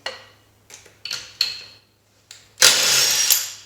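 A cordless battery-powered driver works the wheel bolts on a Tesla Model S, giving several short, sharp bursts followed by one longer, louder sustained whir close by.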